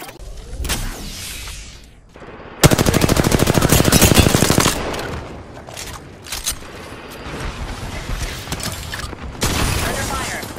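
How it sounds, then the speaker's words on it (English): Automatic gunfire in the battle royale game Apex Legends on Storm Point, with a sustained loud burst of rapid shots in the middle and scattered bursts before and after amid game effects. "Under fire. Zipline deployed. Shots fired at me."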